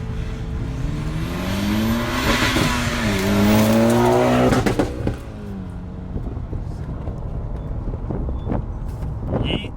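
A Nissan R32 GTR sweeps past at speed on a mountain touge road, its engine note climbing loud as it closes in, then dropping sharply in pitch and fading as it passes and pulls away.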